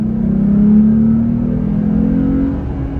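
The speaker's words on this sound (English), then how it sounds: "Okay, I hit the accelerator right now." Jeep Gladiator engine revving as the accelerator is pressed from a roll at about 23 mph with throttle lag, a loud steady engine drone that climbs gradually in pitch, heard from inside the vehicle without talk.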